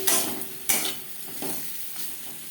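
Pointed gourd (kakrol) pieces coated in turmeric and salt fry lightly in a pan, a soft steady sizzle broken by a couple of sharp clinks and stirring scrapes, close and alone.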